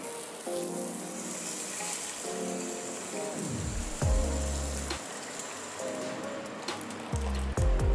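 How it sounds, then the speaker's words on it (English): Hot water is poured into a kitchen pot holding 500 grams of sugar, a steady rushing splash with shifting gurgling tones, fairly close and continuous with no talk. "To make the sugar dissolve quickly, I'm gonna pour hot water in it."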